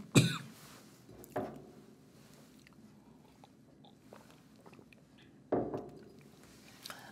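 A few sharp, close coughs spaced apart, with quiet pauses between them.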